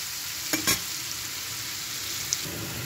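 Pieces of food sizzle steadily in leftover shrimp-frying oil topped up with extra oil in a pan, a close, even crackle with a few brief sharp stir or utensil knocks.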